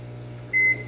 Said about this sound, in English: Let's put it in the microwave for a minute and heat this up.